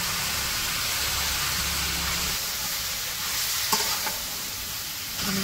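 Chopped taro stolons (kochur loti) sizzle steadily in a hot pan in a Bangladeshi village kitchen, with a continuous loud frying hiss broken by a few scraping stirs near the end, and nobody talking.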